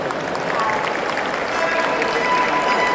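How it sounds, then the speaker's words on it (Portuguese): An audience claps for a teacher at a political seminar, a dense steady patter of many hands filling the room with faint voices and whistles mixed in. "Salva de palmas para a professora"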